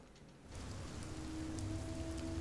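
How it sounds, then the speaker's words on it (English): Steady rain falls in the horror game Fears To Fathom: Ironbark Lookout, a dense, even patter near a forest fire lookout that swells slightly after a quieter start and continues unbroken, with a low hum beneath. "It's raining and shit."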